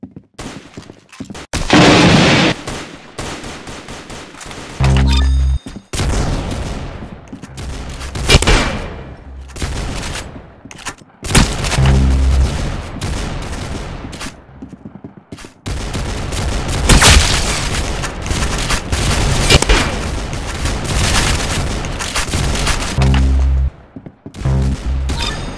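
Repeated gunfire in the Roblox shooter Arsenal, with loud bursts and single shots coming in clusters and pauses throughout, close and dense with no talking.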